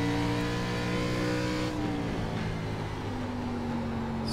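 An ARCA race car in the iRacing video game hums at steady low revs, its engine tone dipping then climbing smoothly as the throttle is picked up, close and continuous with no talk.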